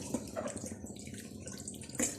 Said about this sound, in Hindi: इसमें एक गिलास पानी डालेंगे ताकि इसका मसाला जले नहीं।